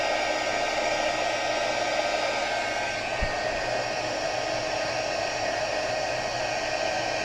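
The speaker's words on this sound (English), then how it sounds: "Just wait for it to catch and then move your heat gun along" A heat gun blows steadily for embossing powder being heated from underneath, giving a constant, close, even whoosh of air with no breaks and no voices.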